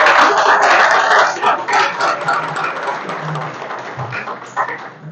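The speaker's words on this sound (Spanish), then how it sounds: "Denle un aplauso al Señor por eso." A church congress audience in Bogotá applauds, loud at first and then tapering into a softer, steady patter of clapping.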